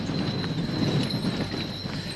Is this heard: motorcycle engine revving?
no